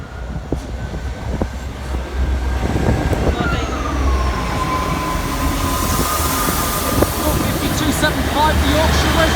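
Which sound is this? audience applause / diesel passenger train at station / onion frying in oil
diesel passenger train at station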